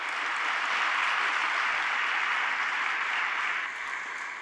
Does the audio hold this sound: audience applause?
yes